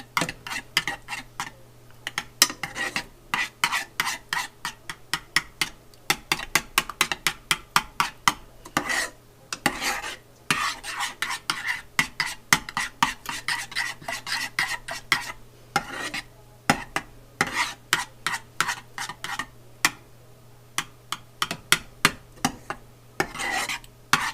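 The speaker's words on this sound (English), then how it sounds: "And then I'm just going to stir that and get it all mixed up nice and evenly." A spoon stirs green bean casserole mixture in a dish, making quick, repeated clicks and scrapes against the sides that run steadily and close up, with no talking.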